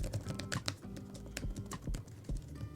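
Fast, close typing on a Logitech Keys-To-Go 2 compact keyboard. Crisp key clicks fall in a quick irregular patter with a few louder taps mixed in.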